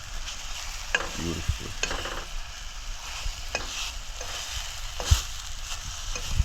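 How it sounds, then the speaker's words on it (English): An egg fries in a pot over a burner, a soft sizzle with repeated scraping and clinking stirs and a sharp knock, close by; a voice briefly speaks a single word. "Time to fry up the egg now."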